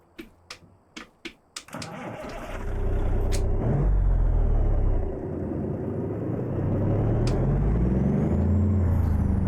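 Mack R700 truck with a 444 Cummins engine in American Truck Simulator. A few sharp clicks come first, then the engine cranks and settles into a loud, steady diesel rumble with no talking.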